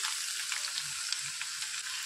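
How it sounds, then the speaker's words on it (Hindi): Onions hitting hot oil in a non-stick pan give a steady, fairly quiet sizzle, a continuous hiss with faint crackles throughout. "तेल गरम हो गया है, प्याज डालें।"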